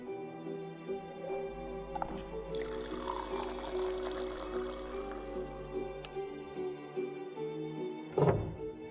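Coffee being made in The Tartarus Key video game: a steady pouring hiss lasting several seconds over soft background music, followed by a short thunk.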